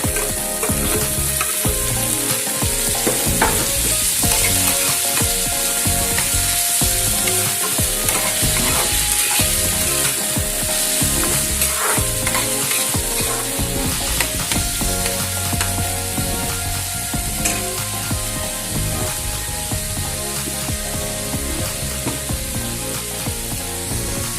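Chopped tomatoes frying in oil in a pan while being stirred, a loud continuous sizzle with scraping stirs scattered through it, close up and unbroken, no talking.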